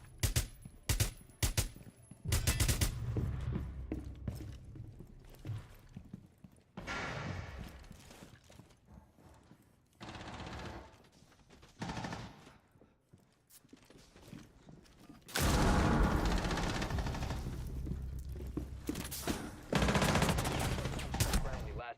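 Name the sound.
gunfire from shooting in Rainbow Six Siege video game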